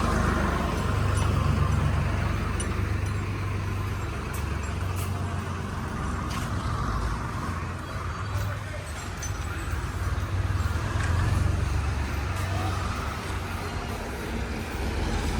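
A tractor pulls up at the Shri Yagnapurushdas cow shelter in Sarangpur, home to Gir cattle. Its loud, steady low engine rumble holds for the whole stretch with no break.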